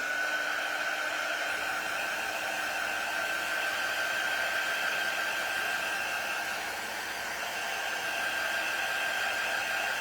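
A hair dryer blows steadily, a constant whooshing airflow with a thin high whine, loud and close, running without pause and with no talking.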